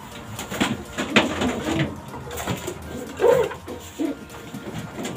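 Racing pigeons, young birds back from their first 100 km training toss, coo in soft, low bursts close by, with several short calls spread over a few seconds amid rustling loft noise.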